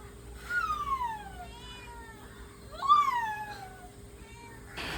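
A young child imitates a cat's meow with two drawn-out, sliding meows, the second louder, close and clear over a quiet room with no other talk.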